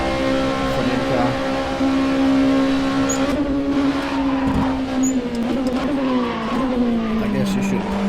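A racing car engine in a video game, an LMP2 prototype at Le Mans, drones loudly and continuously, its pitch rising and falling as it revs, with faint tire squeal mixed in.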